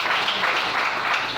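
A church congregation applauding and cheering in praise of the Lord, a steady dense wash of many hands clapping throughout.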